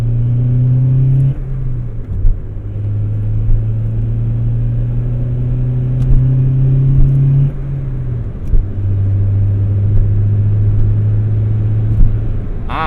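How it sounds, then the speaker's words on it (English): A warming-up Acura Integra Type R replica engine idles with a low, steady rumble, its pitch dipping slightly a couple of times, close by and fairly loud. "Still letting the engine, the driveline, get up to temp a little bit."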